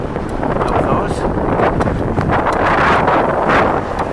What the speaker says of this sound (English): Sorry, it's a little windy out here.